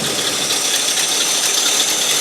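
Ford Galaxie V8 idling on a Holley carburetor, sounding slightly rough and struggling: a steady, close engine rumble with a faint uneven vibration and no talking.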